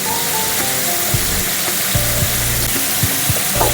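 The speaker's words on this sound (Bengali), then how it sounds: "ঝিঙেটা আমার হালকা ভাজা হয়ে গেছে" Sliced ridge gourd fries in a pan with a dense, continuous sizzle up close, punctuated by a few soft knocks and scrapes of a spatula, with no voices.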